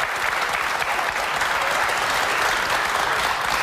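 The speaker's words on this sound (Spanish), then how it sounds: "Aquí, els càmeres aplaudint" A TV studio audience and camera crew break into sustained applause on a Catalan talk show, a dense, even roar of clapping that holds at a constant level without pauses.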